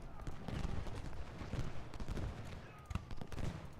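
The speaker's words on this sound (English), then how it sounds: "hit the Union forces with canister fire" Artillery canister fire in the Ultimate General Gettysburg video game comes as a quiet, dense crackle of many overlapping shots with a few sharper bursts, faint and without talk.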